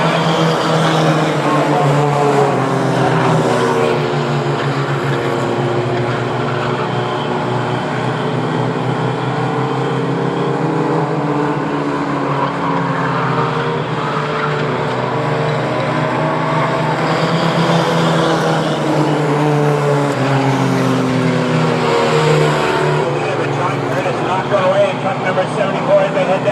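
Race trucks roaring around a short oval speedway during a Mighty Trucks feature at Star Speedway, a continuous loud engine drone that rises and falls as the pack circles, with an announcer calling the race over it.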